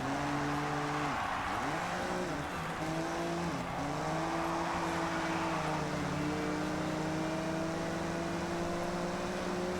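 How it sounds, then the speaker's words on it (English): A car engine in the Forza Horizon 6 racing game revs loud and strained throughout, its pitch dipping and rising through quick gear shifts before settling into a sustained high drone with no voices. "The engine's screaming as I'm barely pushing 80."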